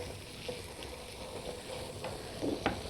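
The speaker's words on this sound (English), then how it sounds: "hear the sizzle. I don't know if you can hear it, but sounds great" Franks simmering in a ketchup and currant jelly sauce give off a soft, steady sizzle, faint and even, with a couple of small stirring clinks near the end.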